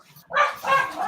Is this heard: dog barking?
yes